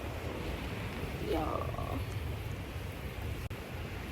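Strong wind gusts across an open campsite at Cedar Hill State Park in January, roaring steadily close to the microphone, with a brief voice heard through the buffeting.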